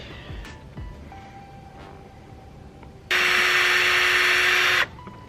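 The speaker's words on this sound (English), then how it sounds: "it's not ideal to be drilling this in the air like this" A loud, steady high-pitched drill whine runs for about two seconds as a hole is drilled in a Honda Civic Type R's body, starting and stopping abruptly, with quieter shop noises and faint clicks before it.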